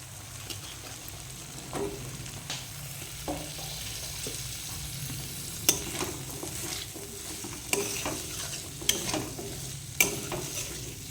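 Drumstick stems frying in cooked-down spice paste for a shol fish curry, with constant sizzling broken by repeated spatula scrapes and knocks against the pan, louder clacks toward the end.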